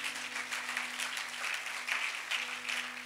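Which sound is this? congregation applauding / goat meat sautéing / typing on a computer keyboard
congregation applauding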